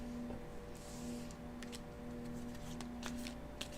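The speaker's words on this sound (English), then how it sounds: "Let me shuffle these cards back in." Tarot cards are shuffled close up in a run of light, crisp riffling flutters, quiet against a low steady hum and with no voices.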